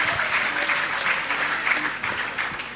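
A church congregation applauds in a dense, steady wash of clapping that holds at an even level for the whole stretch.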